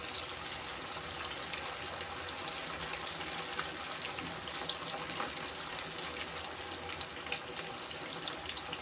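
Ray fish pieces coated in masala fry in hot oil, giving a steady, dense hiss and crackle that holds evenly throughout at moderate volume, with no talking.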